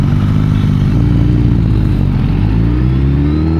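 A BMW motorcycle with a single-sided swing arm passing, loud low engine rumble with rising and falling harmonic tones up close, heard over steady road noise.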